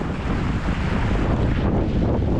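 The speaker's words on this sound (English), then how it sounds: "Wind's about 14 knots" Wind of about 14 knots while sailing a Hobie off South Texas, a continuous loud roar of gusts buffeting the microphone with water noise beneath.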